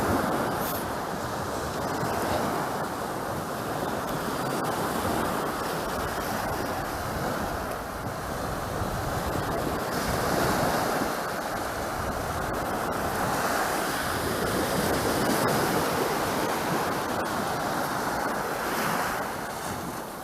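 Sea waves wash ashore on Alagadi Beach near Kyrenia, a steady wash of surf with gentle swells, mixed with gusting wind buffeting the microphone, continuous and fairly loud with no voices.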